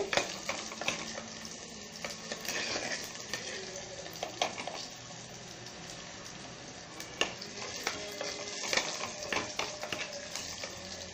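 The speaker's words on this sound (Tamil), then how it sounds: "பூண்டு கொஞ்சம் சிம்மில் வச்சுக்கோங்க பூண்டு வணக்கிட்டு" Garlic sautéing over low heat for an herbal kuzhambu, a soft continuous sizzle with irregular spoon scrapes and taps against the pan, close and moderately quiet.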